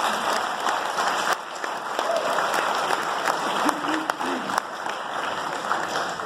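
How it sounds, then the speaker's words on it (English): Steady, dense applause from a high school sports awards night audience honoring parents and families, sustained throughout at even loudness with no talk over it. "let's give our parents and families a round of applause"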